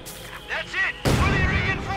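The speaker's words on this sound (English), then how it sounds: "More mortar fire." Mortar rounds land in the Company of Heroes 2 strategy game, with a booming, rumbling impact about halfway through that follows lighter battle noise, heard beneath a commentator's voice.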